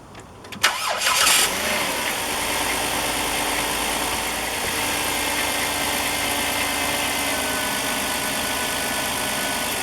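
A 2006 Chrysler Town and Country minivan, just fitted with a new radiator, cranks briefly and fires up, then settles into a steady, even idle that holds at a constant level.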